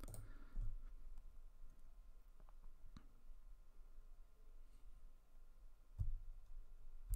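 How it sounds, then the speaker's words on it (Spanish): Quiet computer mouse clicks, a few isolated sharp taps spaced irregularly over a faint background hum, with no talking. "Si hacemos clic en salud"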